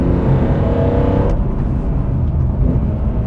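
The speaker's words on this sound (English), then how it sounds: "You see that shifting down is nice and quick." BMW M3 CSL downshifting with rev matching, a loud, close engine note with a brief blip as the gears drop around the middle, then steady engine and road drone.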